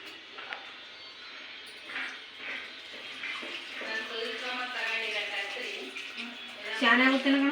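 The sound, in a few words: pouring jaggery water into cooked wheat rice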